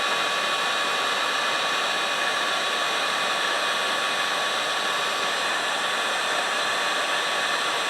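A heat gun blows hot air onto a fuel hose of a 1982 Fiat 2000, giving a constant, even, fan-driven roar with a faint steady whine, close and unbroken, without speech.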